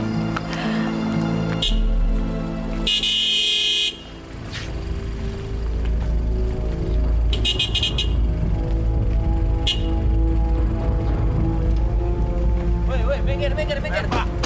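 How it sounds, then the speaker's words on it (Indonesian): A car horn blares in sharp repeated bursts over a loud, steady engine rumble, close by, with voices speaking in between. "Apa nggak dengar suara bunyi klakson apa?"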